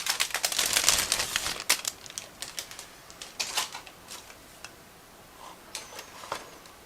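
Plastic crinkles and rustles up close in irregular bursts, loud sharp crackles at first, then sparser crinkles with quiet gaps between.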